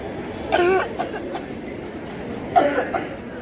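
A father coughs during a hospital scene in a school anti-tobacco stage skit, with two harsh bursts about two seconds apart over a quiet room background.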